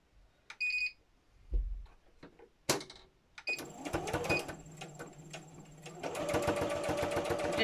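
A sewing machine stitches fabric for a needle book cover; a few scattered clicks and short beeps come first, then a steady, close, rapid stitching rhythm runs to the end.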